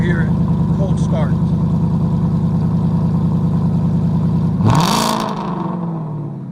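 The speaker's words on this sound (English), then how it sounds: "This is the cold start on this Mustang with the Performance Ford by Borla." A 2017 Ford Mustang GT 5.0 V8 with a Ford Performance exhaust by Borla idles on a cold start with a deep exhaust rumble, then revs sharply with a loud roar before dropping back to a lower idle.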